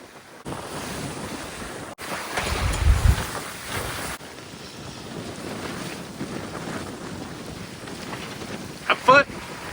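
Wind buffets the microphone and waves wash past the hull of a sailboat beating close hauled down Delaware Bay, a steady rushing roar with gusty swells and a few brief knocks near the end.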